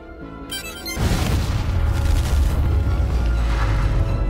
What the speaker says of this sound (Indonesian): Dalam sekejap banyak pasukan Antonio yang tewas karena ledakan tersebut